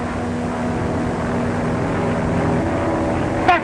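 A propeller airplane approaching in a 1935 crime drama, a steady, fairly loud engine drone with a rumbling low hum, no voices, ending with a brief rising whine.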